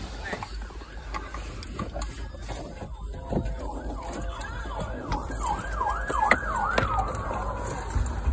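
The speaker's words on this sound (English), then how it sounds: "That was an ambulance." An ambulance siren passing on a street wails in rapid, repeated up-and-down sweeps that grow louder and then fade, heard over traffic and background noise.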